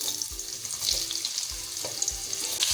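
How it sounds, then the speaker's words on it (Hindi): Thin slices of tinda (apple gourd) fry with cumin in hot oil over a medium-to-high flame, a steady close sizzle with soft stirring scrapes at a regular pace and no voices. "अब हम टिंडों को अच्छे से फ्राई करेंगे।"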